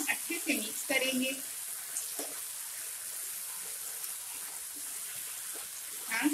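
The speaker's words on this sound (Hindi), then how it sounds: "कैप्सिकम, ओनियन सबको सॉस के साथ अच्छे से फ्राई कर लिया है।" Capsicum and onion frying with sauce in a pan, giving a steady soft sizzle and hiss that continues throughout, with brief bits of background voice and kitchen noise.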